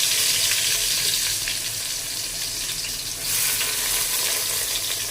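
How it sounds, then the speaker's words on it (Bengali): Onions frying in oil in a pan while cooking a tomato and potato dish, a steady broadband sizzle that holds close and even throughout, with no talking. "পেঁয়াজ আপনার এই যে এইভাবে দিয়ে দিলাম"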